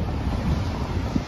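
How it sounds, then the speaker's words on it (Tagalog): Strong wind gusting during a walk through falling snow in Canada, a constant rumbling buffet on the microphone with low gusty surges, close and steady, no talking. "sobrang lakas ng hangin"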